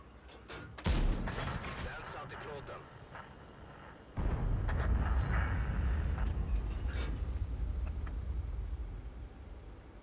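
Heavy tank cannon fire from a Swedish STRV 103B in the World of Tanks game, with a sharp booming shot near one second and another big blast around four seconds, leaving a loud rumbling roar that runs under a speaking voice.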